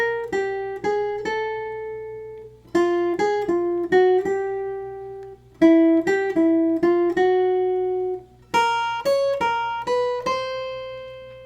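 Jazz guitar playing a chromatic enclosure pattern from the 5th into the 3rd, in small clusters of quick plucked notes that each settle on a sustained tone, four phrases in a row, clean and close with no voices.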